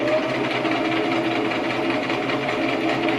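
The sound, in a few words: sewing machine doing a back stitch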